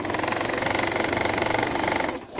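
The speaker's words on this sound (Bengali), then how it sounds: "এই ডেউয়ের উপর দিয়ে সেলাই করে এই কাপড়টাকে অ্যাটাচ করে দিচ্ছি" A sewing machine stitches fabric onto a kameez collar in a fast, even mechanical rattle that runs close and loud, then briefly eases off near the end.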